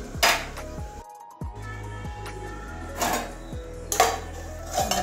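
Metal lid set back onto a cooking pot of potol chechki, a pointed gourd dish: several close metallic clanks and knocks against a quiet kitchen background.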